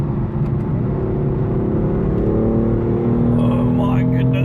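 A BMW M4 engine revs and pulls hard during a drive, a loud, steady, close droning roar with rising harmonic tones toward the end, running continuously throughout.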